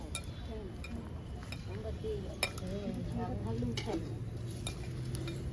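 Washed rice coated in ghee is stirred in a pan for rice pudding, with soft scraping and light clinks of the spoon against the pan while someone talks quietly over it.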